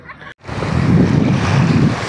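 Rough surf pounds an island shore, a loud continuous roar of breaking waves mixed with wind buffeting the microphone, following a brief cut near the start.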